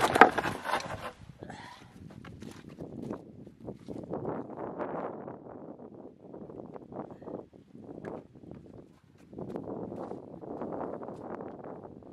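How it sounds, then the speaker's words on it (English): Outdoor wind buffeting the microphone at a timber-framed greenhouse build, low rumbling gusts that swell and fade in uneven bursts, moderately loud throughout. "Battling with the wind a little bit here."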